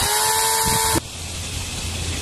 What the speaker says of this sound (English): Now sometimes you're drilling into the frame, which is the same thing.